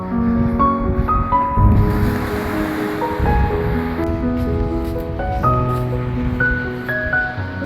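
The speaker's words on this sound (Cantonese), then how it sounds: "喜歡聽浪睇海景嘅朋友，唔好走雞啦，一定要嚟呢度啊！" Sea waves surge against the rocky shore platform at Shek Pai Wan on Lamma Island at high tide. A continuous loud surf roar with gusty swells sits under sustained melodic tones.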